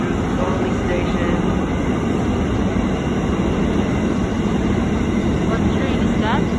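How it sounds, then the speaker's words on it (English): Freight train passing through Thornlie station, a steady loud rumble and rail roar that holds throughout without letup. "a freight train passing through the Thornlie station"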